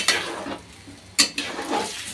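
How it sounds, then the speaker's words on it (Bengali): Taro corms stir-fried in a pan for a Bengali taro and dried prawn dish, with a few sharp spoon scrapes against the pan over a soft background sizzle. "এই যে সবগুলো কচুর মুখিগুলো দিয়ে দিলাম, এগুলো করে আমি কষিয়ে নিই।"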